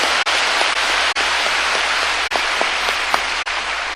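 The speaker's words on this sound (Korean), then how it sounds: "하나님께 감사하지 않으면 박수로 하나님께 감사" A church congregation at a Korean sermon claps together in thanks to God, a dense, steady wash of applause filling the hall with a few brief dips and no voices over it.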